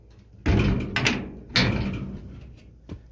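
A sliding door on a 1951 Chevy Suburban panel truck runs along its track and bangs shut, with two loud close impacts followed by a fading rattle and a faint final click.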